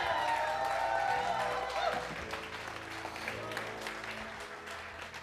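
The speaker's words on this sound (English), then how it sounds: "why don't you give God one big hand clap of praise in the room today?" A church congregation clapping in praise, steady dense applause from a crowd in a room that gradually tapers off, with some voices mixed in.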